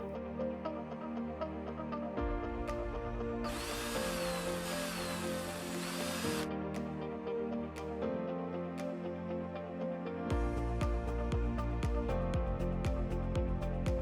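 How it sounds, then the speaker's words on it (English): A cordless drill drives mounting screws through a water filter head assembly into a cabinet, with several sustained whirring runs and steady tonal hum from another source underneath, plus brief clicks and one harsher noisy burst. "Fasten the filter head assembly to the cabinet with the 2 mounting screws using a cordless drill."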